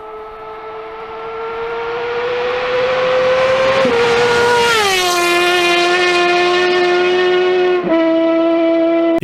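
A motorcycle roars past close by, its loud, whining engine tone climbing as it approaches, then dropping sharply in pitch as it passes and recedes, with no voices.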